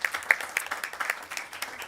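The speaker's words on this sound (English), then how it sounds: "Everybody give a round of applause to Miss Judy." Sparse applause in a committee hearing room, a small group clapping unevenly with distinct individual claps, fairly quiet and brief.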